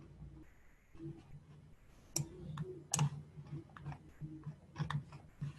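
Computer keyboard typing in a quiet indoor setting, a few quick clusters of light key clicks and sharper taps spread over several seconds at low level, with no talking.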